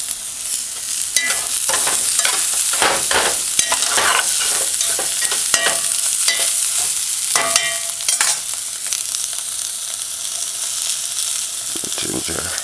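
Onion, garlic and scallion fry and are stirred in a pot for a vegan brown stew. There is a steady close sizzle with repeated scraping stirs, and no voices.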